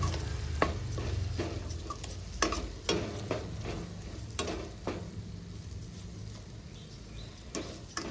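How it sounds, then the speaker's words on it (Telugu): Fish pieces frying in oil with chili powder, a soft continuous sizzle broken by repeated scraping and stirring knocks from a spoon in the pan, close and fairly quiet. "కారం వేసుకున్న తర్వాత ఒక 2 నిమిషాలు బాగా ఫ్రై చేసుకోవాలి"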